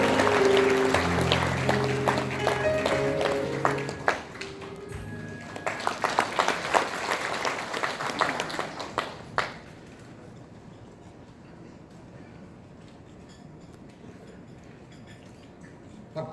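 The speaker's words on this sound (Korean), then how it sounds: "박수로 맞아주시기 바랍니다." An indoor audience at a Korean commemorative book-launch ceremony claps to welcome a speaker, a dense burst of applause lasting several seconds before it thins out and fades to a quiet room.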